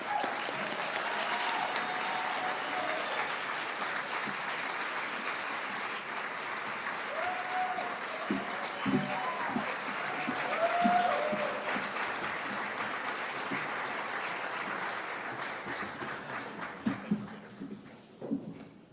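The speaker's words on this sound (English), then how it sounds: "That's one of your chances to clap." Audience at an Oklahoma gubernatorial debate applauding as the candidates are welcomed onto the stage, a long sustained wash of many hands clapping in a hall that thins out toward the end, with a few last scattered claps.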